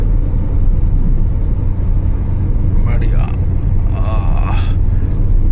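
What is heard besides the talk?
car cruising on highway at 80-90 km/h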